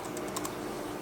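Quick light keystrokes on a Satechi compact backlit keyboard with rounded keys, a handful of soft close clicks over a quiet room hum.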